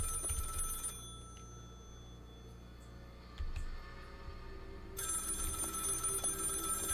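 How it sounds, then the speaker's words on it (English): A payphone rings inside the horror video game Maid of Sker, a steady, bright electronic bell tone that cuts out and then resumes over a low droning ambient bed, with no talking. "Got a ringing payphone."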